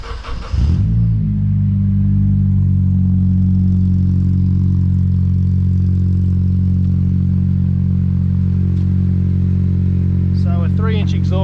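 A Honda K24 engine in a budget CL9 race car revs through a DIY 3-inch exhaust, a loud, steady, deep rumbling drone held for about ten seconds after startup, with voices talking faintly near the end.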